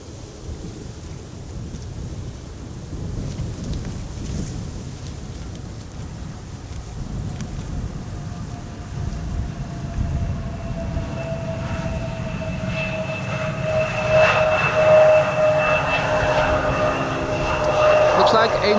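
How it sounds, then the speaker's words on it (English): An EasyJet Airbus A320 arriving at Amsterdam Schiphol in stormy, windy weather, its engine roar swelling from a distant rumble to a loud close pass with a rising whine, wind buffeting throughout and faint talk underneath. "And an A320 after that, EasyJet coming in from Basel."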